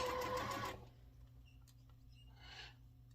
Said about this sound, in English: We're going to sew down the side, 1/4 inch.